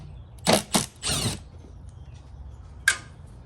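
Two T25 screws coming out during an oil change on a 2010 Jaguar XFR, a few short close metallic scrapes and clicks in a quick cluster, then one sharp click after a pause, over a quiet background.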